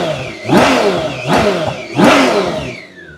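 A 2019 BMW K1600B bagger's six-cylinder engine revs three times in quick succession, each blip climbing sharply and falling back toward idle, loud and close with no talking.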